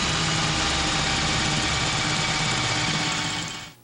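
Power drill enlarging a hole, a steady close whirring hum that runs evenly for about three seconds before winding down and stopping.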